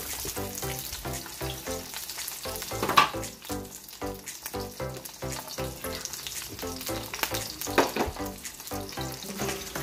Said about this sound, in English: And me frying the boneless milkfish.